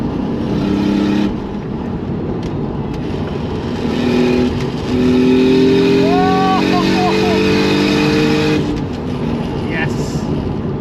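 A Toyota Supra with a manual gearbox and single turbo engine revs and pulls through the gears, heard loud from inside the cabin with rising engine tones and turbo whoosh, while occupants talk over it.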